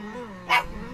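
A single short dog bark, a loud burst standing out briefly against a background of low hum and murmuring voices, in a Vietnamese comedy series scene.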